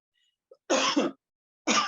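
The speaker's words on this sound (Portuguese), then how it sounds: "Desculpa, deu tosse." Two sharp, harsh coughs about a second apart, close and loud, with silence between them.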